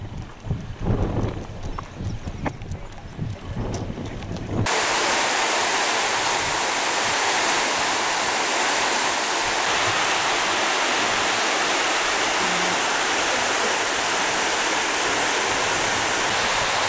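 Water pouring over a weir at the end of a lake, heard from a footbridge, rising abruptly after a few seconds of quieter outdoor sound into a loud, steady, continuous roar that carries on to the end.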